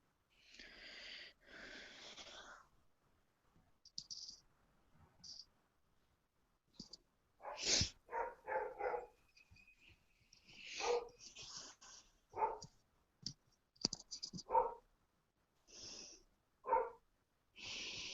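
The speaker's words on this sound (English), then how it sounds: "They're just barking at each other" Dogs bark at each other in short, scattered bursts, mixed with wheezy breathing and clicking noises, fairly quiet overall with gaps of near silence between.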